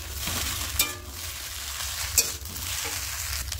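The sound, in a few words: spices (chili, turmeric, cumin powder) frying and being stirred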